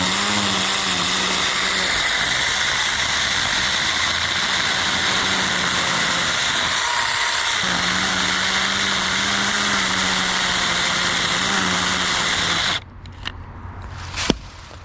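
A Saker mini chainsaw runs loud and close, a steady high buzzing whine with pitch dips as it bites into wood, then cuts off abruptly near the end, leaving a few brief clatters.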